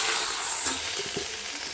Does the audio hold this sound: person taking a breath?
no